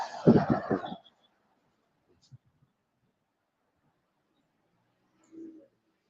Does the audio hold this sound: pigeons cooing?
yes